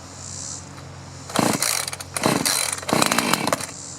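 A two-stroke chainsaw that has been sitting unused sputters to life in three loud, close, rough bursts, each catching briefly before dying back, with no talking.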